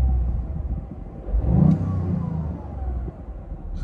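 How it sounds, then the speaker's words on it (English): A 2020 Toyota Yaris GR with its 1.6-liter turbo engine gives one short rev: a close, deep rumble that swells at idle, peaks, then settles back to a steady idle. "I'll give it a little rev for you so you can see."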